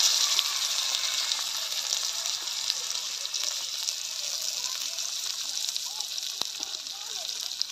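Chopped onion hitting hot oil with cumin seeds and a dried red chili, giving a steady close-up sizzle and hiss that holds loud and even from start to finish.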